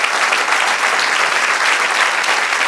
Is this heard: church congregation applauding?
yes